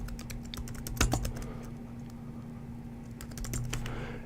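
Computer keyboard keys tapped in a steady run of light, close clicks while an email address is entered, with a brief louder knock near the start and a quieter stretch in the middle.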